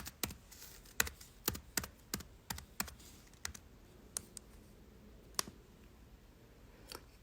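Computer keyboard typing: a quick run of crisp, close key clicks in the first three seconds, then a few scattered single keystrokes in a quiet room, with no talking.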